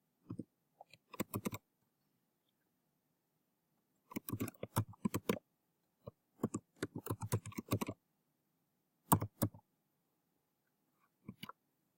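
Keys clatter on a computer keyboard in quick bursts of typing separated by pauses, the clicks close and crisp against a quiet room.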